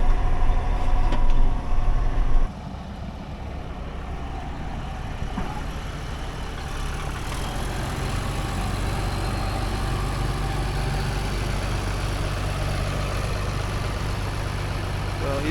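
A farm vehicle driving on a dairy farm, a steady mid-pitched engine drone that is louder and rougher for the first couple of seconds, then settles into an even, constant hum.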